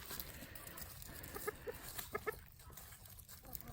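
A few soft, short clucks from chickens, faint and scattered over a low background murmur.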